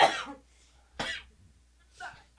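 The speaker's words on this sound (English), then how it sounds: "She's got the cough." Three short, sharp coughs spaced about a second apart, close and clear, the last one softer and more throaty.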